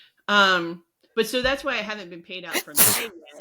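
A loud, close sneeze bursts out once amid casual conversation, with people talking before and after it.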